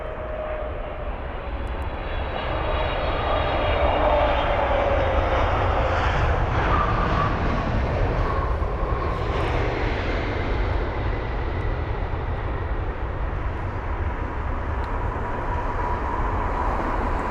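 A Japan Airlines Boeing 777-300ER, fifteen years old, passes at London Heathrow with a loud, continuous broadband engine roar that swells and holds steady throughout.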